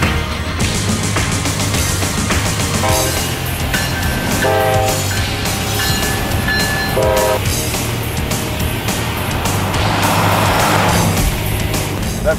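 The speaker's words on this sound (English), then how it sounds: "First to second, that torque flight transmission, boom, boom." A classic Mopar muscle car with a TorqueFlite automatic transmission drives under a loud, steady engine roar and road noise, with no talk.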